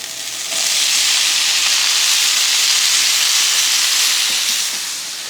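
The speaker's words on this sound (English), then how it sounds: "We're gonna put the potatoes and the green beans in there." Potatoes and green beans hit hot oil in a pan and sizzle loudly in a steady, bright hiss that swells in and holds for several seconds before easing slightly, with no talking.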